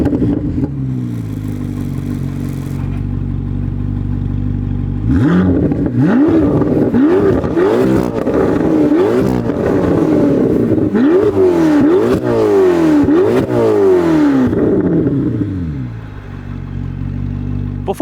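A Chevrolet Corvette C8 ZR1 rated at 1,064 horsepower idles with a deep rumble, then is revved repeatedly in sharp rising and falling blips, loud and close, before settling back to idle.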